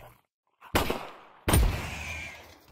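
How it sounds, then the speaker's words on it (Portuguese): Two sharp gunshots from CS:GO on the Source 2 engine, each a loud crack with a decaying tail, the first after a short silence and the second about three-quarters of a second later. "Tiro da Source 1 pro tiro da Source 2."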